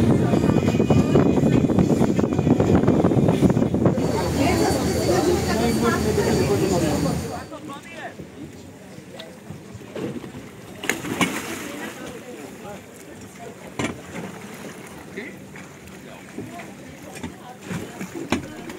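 Strong wind buffets a boat on the open sea off Sharm el-Sheikh, a loud steady roar and rush for about seven seconds before dropping away to quieter rumbling and splashes.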